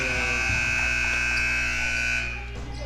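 A basketball game buzzer at a boys' high school game against Derby blares as one loud, steady electronic tone for over two seconds, then cuts off abruptly into gym hum.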